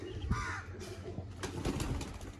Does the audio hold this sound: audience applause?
no